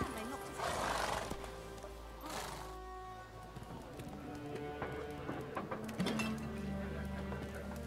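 Geralt's horse Roach in The Witcher 3 neighs loudly near the start, then hooves clip-clop at a steady trot through a village, with a few spoken lines and faint background sounds.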